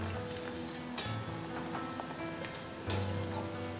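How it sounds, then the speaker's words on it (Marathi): Sliced onion frying in hot oil until brown, a steady close sizzle with occasional stirring clinks and taps against the pan. "कांदा छान ब्राउन होईपर्यंत तळून घ्यायचा आहे।"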